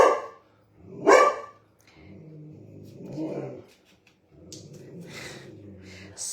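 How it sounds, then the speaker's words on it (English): A dog outside in the neighbourhood barks twice, sharp and fairly loud, then gives lower growls and snorts, with faint talk under the later part. "boy, somebody's walking their dog."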